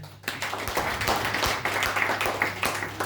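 Audience clapping at a product presentation: a dense, steady patter of many hands held for about three seconds at moderate level, with scattered sharper claps standing out.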